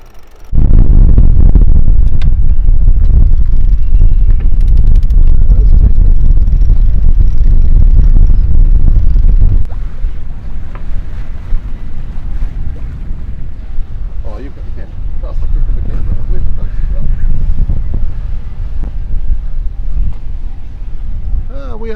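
Leopard 45 catamaran under sail, with strong wind buffeting loudly across the microphone at first, then easing to a steadier rush of wind and water for the rest.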